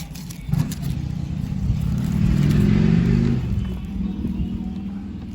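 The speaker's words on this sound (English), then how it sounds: "loud motorcycles going by while making a video." Engines rumble past nearby, swelling to a loud, rising roar in the middle before fading away, with some clatter at the start.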